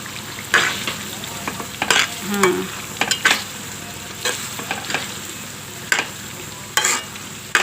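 Oil fries and crackles for homemade ready-made sambal paste while a utensil stirs and scrapes the pan in irregular bursts, close and moderately loud, with no talk.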